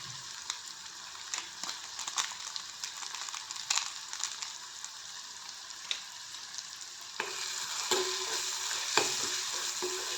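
Tomatoes seasoned with Maggi masala sauté in hot oil, giving a steady close sizzle broken by occasional stirring scrapes. It grows slightly louder near the end, and nobody speaks.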